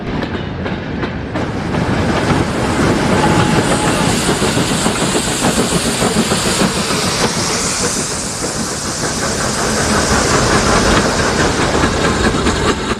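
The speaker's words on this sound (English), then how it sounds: "An unidentified red engine takes a freight through Newport Harbor, and Chinty and his LMS livery banks the train" A steam-hauled freight train rolls past Newport Harbor, banked by a second engine, with loud, steady rumbling, clanking wagons and hiss that fill the whole stretch.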